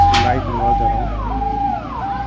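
An ambulance siren during a 24-hour strike shutdown in Agartala, Tripura, wailing in repeated rising and falling sweeps, loud and close, over a low engine rumble.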